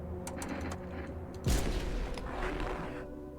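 Rapid gunfire bursts in the horror game No, I'm Not A Human, a sharp loud blast opening a dense rattling volley over a steady droning game background.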